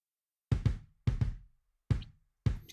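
Addictive Drums MIDI kick drum processed with EQ to tame its brightness, playing a pattern of paired and single deep thuds, close and solid, each hit decaying quickly into silence.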